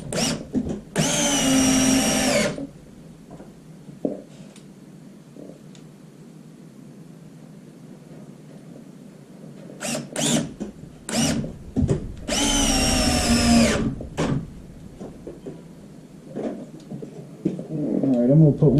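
A power drill drives screws into wooden boards of a raised planter in two loud whirring bursts of a couple of seconds each, separated by quieter handling knocks and clatter.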